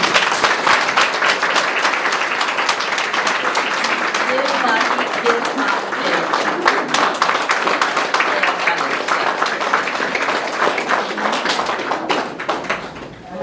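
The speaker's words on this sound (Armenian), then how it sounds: "ես այսօր թույլ տվեք վերջին անգամ ծափահարեմ մեր բալիկներին" Audience applauding kindergarten children at a kindergarten celebration, a dense, steady clapping with sharp individual claps throughout, loud and sustained for the whole stretch.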